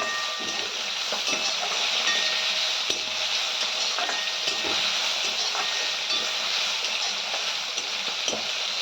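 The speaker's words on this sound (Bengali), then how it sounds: "এটাতে এবার পেঁয়াজটা কোনো রকমে নরম করে ভেজে নেবে" Onions softening in a small amount of fish oil in a pan, a steady hissing sizzle held close and even throughout, dotted with faint taps and scrapes from stirring and no speech.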